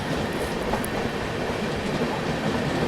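Sampark Kranti Express overtaking another train, a dense, continuous roar of wheels and rushing carriage noise heard up close for a few seconds.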